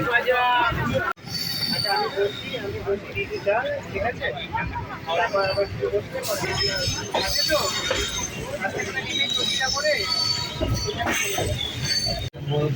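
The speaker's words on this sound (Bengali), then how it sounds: "এই মুহূর্তে আমরা এসে পৌঁছালাম বর্ধমান স্টেশনে।" A passenger train pulls into Bardhaman railway station, its wheels rumbling steadily and squealing in loud metallic bursts, with voices mixed into the noise.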